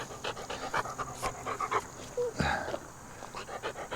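An old farm dog named Oakley, a ten-year-old female, pants in quick repeated breaths close by, with faint outdoor farm background and a brief louder burst midway.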